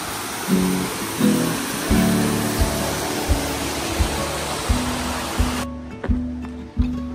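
A small waterfall under a bridge on the Garibaldi Lake hiking trail, a steady loud rush of falling water that stops abruptly near the end, with music playing over it.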